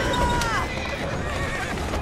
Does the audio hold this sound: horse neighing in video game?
yes